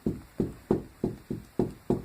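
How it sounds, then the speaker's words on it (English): Knuckle knocks on hollow drywall beside a wall-mounted mirror site, seven evenly spaced dull, resonant raps, close and clear with no talking. "also you can knock. See how it sounds hollow,"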